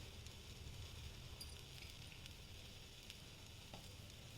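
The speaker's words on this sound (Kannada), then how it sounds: "ಹೆಂಚು ಮೇಲೆ ಹೀಗಿಟ್ಟು ಇದನ್ನು, ಇದು ಅಷ್ಟೇ, ಎರಡೂ ಕಡೆ ನಿಧಾನವಾಗಿ ಸ್ವಲ್ಪನೇ ಎಣ್ಣೆ ಹಾಕ್ಕೊಂಡು ನೀವು ಸುಟ್ಕೊಂಡು" A potato cutlet shallow-fries in a little oil on a pan, a steady, even hiss of sizzling with faint crackles, quiet and close, lasting throughout.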